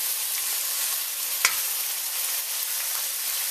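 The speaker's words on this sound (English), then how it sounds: "we're going to start adding the pieces of pork to it" Seasoned pork pieces sizzle steadily in a hot pot for stewed pork ribs, a constant bright frying hiss with one short sharp crackle partway through, close and alone with no talking.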